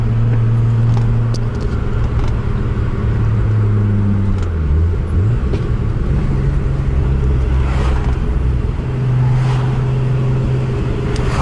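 VW Golf 3 VR6 turbo accelerating, heard from inside as a loud sustained engine drone that climbs and drops in pitch through gear changes over steady road noise, with no talking.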